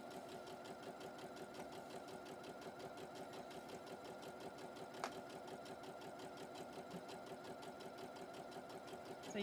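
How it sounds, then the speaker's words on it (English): A sewing machine stitches fabric seams on panels, its needle running in a fast, steady rhythmic patter that stays close and even throughout, with one brief click midway. "So you can stitch right past your pins"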